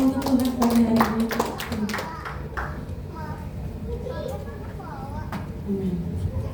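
At a Sunday church service, the congregation breaks into a brisk burst of clapping, loudest at the start and then tapering off, while voices and talk carry over the top.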